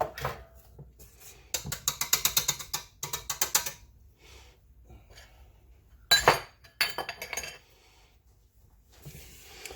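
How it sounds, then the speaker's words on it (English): Oatmeal cookie ingredients for a gluten-free, flourless batch are dumped into a mixing bowl, giving several bursts of clinking and rattling against the bowl, with quieter pauses in between. "now you just dump all that in there."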